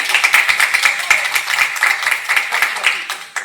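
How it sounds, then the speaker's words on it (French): Guests at a wedding in a hall break into applause, a dense, steady patter of many hands clapping close by for a few seconds, fading slightly at the end. "On peut l'applaudir."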